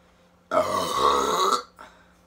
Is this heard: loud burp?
yes